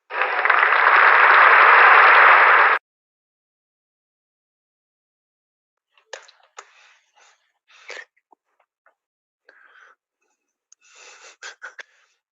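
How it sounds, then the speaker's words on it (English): A short burst of recorded applause plays at the close of a conference presentation, loud and uniform for under three seconds before cutting to near silence broken by faint, scattered speech. "I saw that you added some applause."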